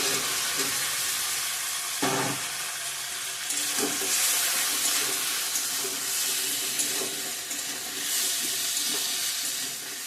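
Fried elephant foot yam and potato with chopped green chili hitting a pan, a steady broadband sizzle with a few sharp clatters of stirring spaced through the clip, close and fairly loud, no talking.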